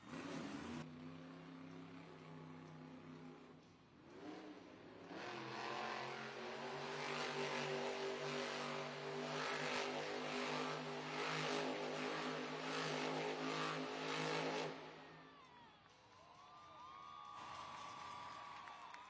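A monster truck engine, Megalodon, revs hard and roars for several seconds, rising and holding at high pitch before dropping off, heard from a distance in an open arena at a Monster Jam event in Newark, New Jersey.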